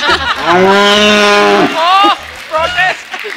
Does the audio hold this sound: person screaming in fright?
no